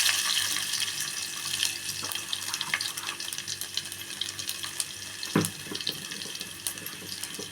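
Mustard seeds, cumin and garlic fry in about three spoons of oil, giving a soft, continuous sizzle with scattered small pops and crackles up close, and one louder clunk partway through.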